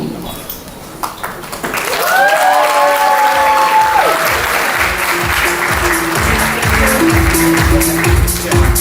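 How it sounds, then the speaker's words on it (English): Loud, sustained applause from a wedding reception crowd honouring the bride's parents, steady dense clapping that swells after a quieter start, with music tones and voices mixed in underneath. "a huge round of applause for the loving parents of our bride"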